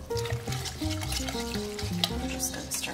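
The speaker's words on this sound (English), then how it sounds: "I'm just going to start whisking that around. For it to melt and thicken." A whisk stirring about six ounces of shredded sharp cheese into hot cream and butter in a pan, a steady close scraping and swishing with a soft simmering sizzle underneath, continuous and fairly loud.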